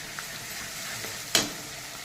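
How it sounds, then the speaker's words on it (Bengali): Chopped onion, green chili and ginger-garlic paste fry in hot oil, a steady gentle sizzle with a few soft stirring taps and one sharp spoon scrape against the pan. "আমার এদিকে পেঁয়াজ আদা রসুন এটা ভাজা হয়ে গেছে।"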